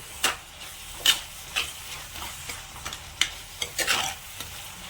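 Chopped green chillies and onion frying in a pan for a prawn dish, a soft sizzle under repeated sharp scraping stirs at an irregular rhythm, close and fairly quiet.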